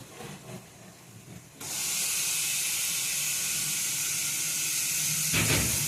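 Ginger-garlic paste hits hot frying onions in a pan for prawn malai curry, and a loud, steady sizzle bursts in after a quieter stretch of stirring, then hisses on unbroken to the end.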